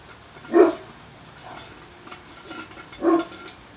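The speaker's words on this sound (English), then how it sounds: "Bloody dogs." Dogs bark at a distance, two clear yaps about two and a half seconds apart with a softer one between, muffled under a steady low background.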